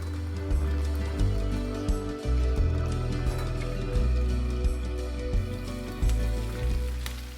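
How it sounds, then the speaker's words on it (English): Drained noodles hit a hot pan in a garlic chili noodle stir-fry, setting off a steady crackling sizzle with small bursts as they settle and are moved around, close and fairly loud with no talk. "Strain out the noodles and add to the pan."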